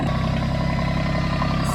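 A backhoe tractor engine runs steadily, a close, even low-pitched diesel chug with a faint clatter and no voices.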